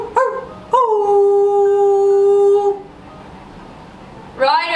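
A dog wearing a bandana howls indoors, close and loud, one long sustained howl after a short yip, followed by another rising howl; a person's voice is heard briefly.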